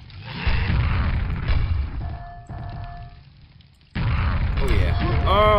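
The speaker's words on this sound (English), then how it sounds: "Expert grenade stuff right there." Deep booming grenade blasts from the game Quake, several heavy explosions with game effects between them and a voice talking over parts.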